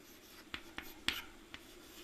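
Chalk or marker strokes on a board during a maths lesson, a few faint, brief taps and scratches spaced irregularly over a quiet room tone.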